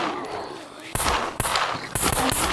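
Rifle fire in the video game SCUM at a target around 100 meters away: three sharp, loud shots spaced roughly half a second apart, each with a short reverberant tail over a steady game ambience.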